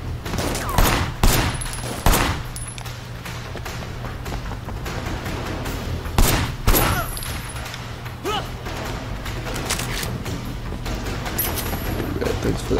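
Gunfire in the Sleeping Dogs video game, sharp shots and bursts cracking out repeatedly over a steady low hum of game audio, with a few heavier thuds mixed in.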